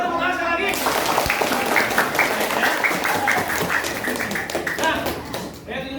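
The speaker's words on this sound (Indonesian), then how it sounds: "Boleh tepuk tangan sekali lagi." A classroom of students applauds together, a dense, steady burst of many hands clapping close by for several seconds before tapering off, with voices mixed in.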